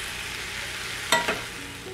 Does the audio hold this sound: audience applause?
no